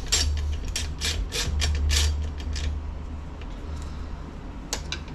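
A bolt on a Northwest Fab Ecobox shifter assembly is snugged up with a hand ratchet, giving a run of quick, close clicks that fade into quieter ticking, with a few final clicks at the end.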